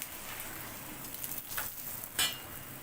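An aloo paratha cooks on a hot griddle in the dhaba style, giving a soft, continuous crackling sizzle with a few slightly louder spits, alone and fairly quiet.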